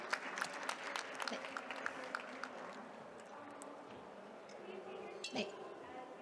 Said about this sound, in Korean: 다시 한번 큰 박수 부탁드리도록